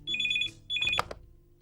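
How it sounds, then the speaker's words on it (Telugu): A telephone rings in a movie scene with two electronic trilling bursts separated by a short pause, the second ending in a clatter as the handset is picked up. "ఫోన్ రింగ్ అవుతుంటే ఏం ఆలోచిస్తున్నావు?"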